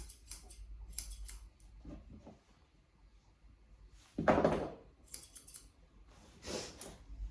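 Scissors trim a Shih Tzu's coat in quiet, close snips, several short crisp cuts in scattered bursts with pauses between, and a slightly louder cluster midway.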